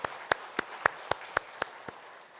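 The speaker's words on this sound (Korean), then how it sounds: "하나님 앞에 영광의 박수 올려드리겠습니다." Applause of praise from a congregation during Sunday worship at a Korean church: eight evenly spaced, sharp claps in steady unison rhythm over a faint room hum.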